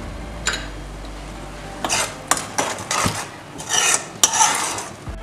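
A spoon scrapes and rasps around the inside of a pot of makhana kheer in irregular bursts, with sharp metallic taps against the rim between strokes, close and fairly loud, with no voices.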